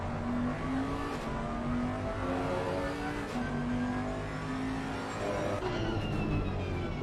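Race cars running nose to tail in a sim racing game, a steady blend of engine whine and revving from several cars bunched close together, continuous with no talking.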